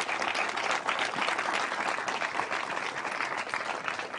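Dense, even audience applause at a Vatan Party political speech, a steady wash of clapping from a large crowd, moderately distant, with no voices over it.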